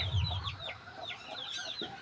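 Chickens clucking inside a coop, several birds giving short repeated clucks and squawks at close range, with no talk.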